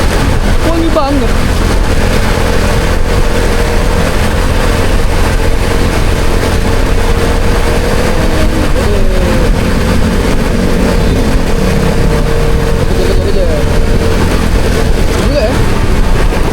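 An old motorcycle engine runs steadily with a loud, continuous rumbling drone throughout, while people talk over it.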